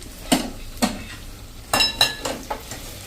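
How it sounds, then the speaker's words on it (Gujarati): Half-mashed boiled potatoes dropped into a pan of onion- and garlic-free potato curry and stirred, with several sharp scraping and clinking hits of a utensil against the pan, close and intermittent, no voices. "અધકચરા આપણે બટેટા પણ અંદર નાખી દેશું અને એને મિક્સ કરી લેશું."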